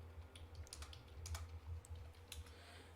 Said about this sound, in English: I'm just typing like that.